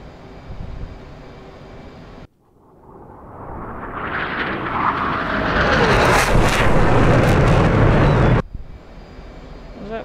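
An F/A-18C Hornet jet in the DCS flight simulator roars as engine noise swells and builds into a broad, loud rush for several seconds before cutting off abruptly, with quieter cockpit hum and brief radio chatter before and after.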